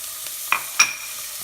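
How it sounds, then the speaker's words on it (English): Chopped onions go into a hot pan, giving two short, bright sizzling bursts over a quiet kitchen background with no talking. "I hear the sizzle, and I'm putting all my onions in there."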